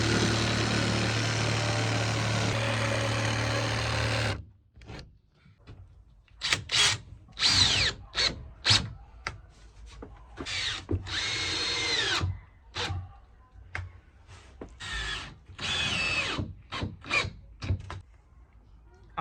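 Power drill driving screws into plywood for a campervan bed frame, heard as a series of short whirring bursts of varying length after a steady, continuous tool noise at the start, close and loud with brief pauses between.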